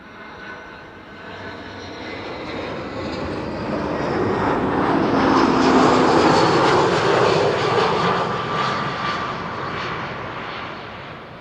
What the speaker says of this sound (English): EasyJet up next. A319 arriving from Prague in the Czech Republic.